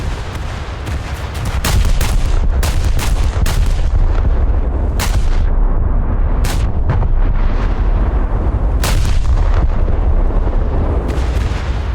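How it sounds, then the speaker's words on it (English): Heavy naval gun salvos from the Scharnhorst battleship in a video game, a string of loud booming shots at irregular intervals over a dense constant rumble, close and powerful, no talking. "Try to get another salvo on that battleship for the port side torpedoes."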